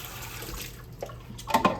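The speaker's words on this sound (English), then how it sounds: "I'll rinse this out." Water from a kitchen tap runs into a measuring cup during pecan pie prep, a steady close splash that grows louder and more turbulent toward the end.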